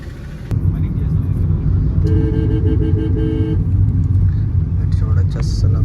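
Heavy road traffic stuck in a jam, a loud close engine rumble with a horn tooting in bursts and other vehicles passing, voices talking faintly in the background.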